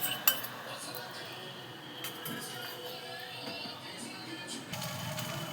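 Prawn and egg chow noodles get mixed in a pan, bringing quiet scraping and clinking of a metal utensil against the pan at an uneven pace, with soft background room noise and brief bits of low talk.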